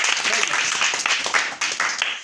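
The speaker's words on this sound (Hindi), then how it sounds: "गुड, ताली बजाओ बच्चे का।" A group claps together for a child, a dense burst of applause lasting a couple of seconds, fairly close and loud.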